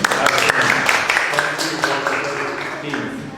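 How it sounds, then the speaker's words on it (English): A classroom of students claps for a classmate during an English lesson on jobs, a steady dense patter that slowly fades over a few seconds, mixed with voices and chatter. "Clap for her, please."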